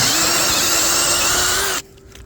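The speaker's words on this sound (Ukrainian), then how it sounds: "Взагалі класно свердлит." A power drill bores into solid, non-rotten tree wood, giving a loud, steady high whine for nearly two seconds before cutting off abruptly into quiet.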